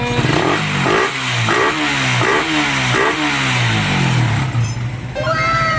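A tuned motorcycle engine revs loudly and up close in repeated rising bursts, with a steady idle rumble between pulls and a voice speaking briefly near the end.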